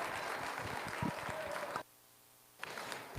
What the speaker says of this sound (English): Let's give all four of them a big round of applause.